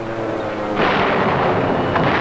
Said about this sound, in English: That's our heavy artillery. They're just getting the range.